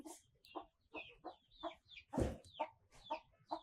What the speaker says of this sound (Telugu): ఈ విధంగా అయితే మరి కోళ్ళు గింజలు అయితే తింటున్నాయి